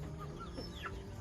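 A farm hen gives a brief, quiet run of soft clucks, heard alone.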